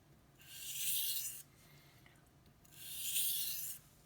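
A knife blade stroked along sandpaper on an EdgeWright sharpener, two long even rasping passes about two seconds apart with quiet between them, close and clear with no talking.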